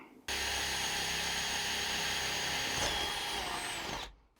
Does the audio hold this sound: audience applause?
no